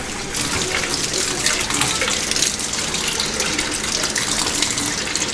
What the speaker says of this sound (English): And then you wash your hands.